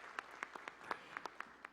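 Scattered applause at a solemn academic session of the IASP, quiet and distant, made of sparse individual claps that tap out an uneven rhythm for under two seconds.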